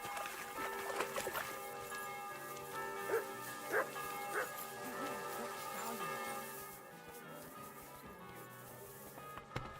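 A dog in the medieval game Kingdom Come: Deliverance 2 gives a few short barks and yips amid soft background ambience with faint bell-like tones, then a quieter stretch.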